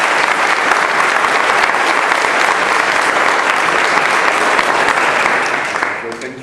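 A full audience applauds to welcome a speaker to the stage at a talk on magic and quantum mechanics, with loud, dense, steady clapping throughout that fades away at the very end.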